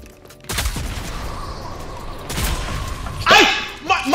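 Bursts of gunfire from the shooter video game Rogue Company, with sharp shots near the start and middle, then a louder burst toward the end, while a player talks over the action.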